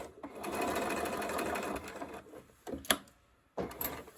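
A sewing machine runs steadily for about two and a half seconds, stitching a gathering row on a small dress panel, then stops. Brief clicks and knocks of handling follow, and a second short burst of stitching starts near the end.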